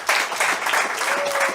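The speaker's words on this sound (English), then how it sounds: "Give him a round of applause." Steady applause from an audience at a talk on biblical peoples, a continuous wash of clapping that stays at an even level throughout with no speech over it.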